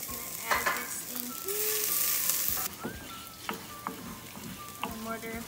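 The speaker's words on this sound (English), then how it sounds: "I still got cinnamon, peppercorns, cloves, bay leaves, all in some olive oil, and they're just gonna simmer in the pot" Cinnamon, peppercorns, cloves and bay leaves sizzle in olive oil in a pot. A steady fry is broken by stirring scrapes and a louder hissing burst midway.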